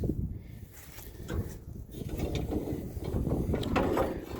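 A combine harvester's feeder chain moving up rattles and clatters continuously, a busy mechanical ratcheting at moderate volume that builds slightly toward the end, with no talking.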